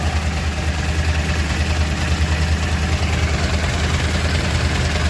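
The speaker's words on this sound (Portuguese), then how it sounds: "Os bicos injetores funcionando e o motor lá trabalhando." A fuel-injected motorcycle engine idles steadily with a constant low, throbbing rumble and a fine mechanical ticking, close by and loud, without any talking.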